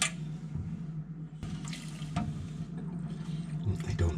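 Water poured over a sprouting tray of seeds, a close splashing trickle with several short gushes and pauses, faint and without talk.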